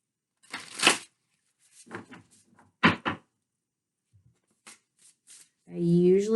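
Short bursts of cards being shuffled, riffling in several quick rounds separated by pauses, close up, ending with a voice.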